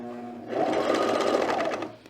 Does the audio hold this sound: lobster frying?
no